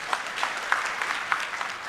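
An audience claps for a senior police officer, the DIG, at a public security forum in Eldoret, Uasin Gishu County, with steady applause and a few sharper claps standing out.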